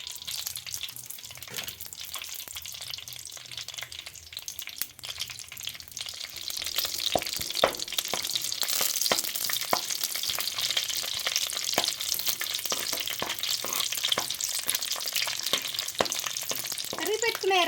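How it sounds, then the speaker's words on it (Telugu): Chopped onion pieces frying in hot oil in a pan, with a steady loud sizzle building after a few seconds and occasional stirring clinks, and brief faint voices. "కరిగి పెట్టుకున్న ఎర్రగడ్డ ముక్కలు వేస్తున్నా"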